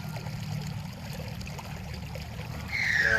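Irrigation water runs along a field channel with a steady, low, rushing wash that stays constant throughout and swells a little louder near the end.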